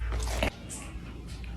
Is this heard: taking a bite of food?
yes